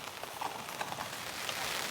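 Rain patters steadily on a camping tent pitched outdoors in a rainstorm, a dense close hiss of drops with scattered brighter taps, growing slightly louder toward the end; no wind or voices.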